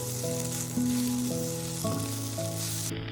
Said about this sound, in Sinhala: දැන් අපි බැදගත්ත කෑලි මිරිස් ටිකත් එකතු කරලා මේ විදිහට හොඳින් කලවම් කරනවා.